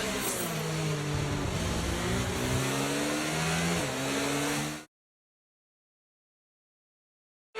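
Formula 1 car engine from the F1 2023 racing game at Circuit Gilles Villeneuve, a loud, steady high-revving whine with shifting pitch for about five seconds before cutting abruptly to silence.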